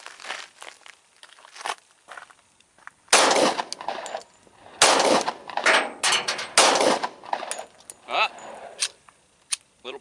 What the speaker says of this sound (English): So let's put 26 rounds on target,